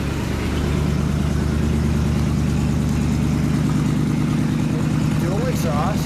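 A 1951 Muntz Jet with dual exhaust idles indoors in a car museum, a steady, loud, throbbing engine rumble, with someone talking over it throughout.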